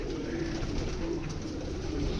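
Captured pigeons coo in a rooftop coop, a low, soft, continuous murmur of overlapping calls close by.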